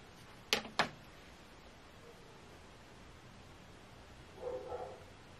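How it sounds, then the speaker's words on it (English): A pet dog barks twice in quick succession near the start in a quiet indoor home, followed by a faint, softer bark or yip a few seconds later against low background hiss. "Don't mind my dog barking, guys."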